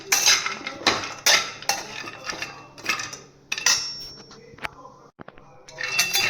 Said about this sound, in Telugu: కొబ్బరి కూడా ఇలా వేయించుకోవాలి ఏమి నెయ్యి కూడా ఏమి వేయలేదు ఒట్టి వేయించిస్తున్నాను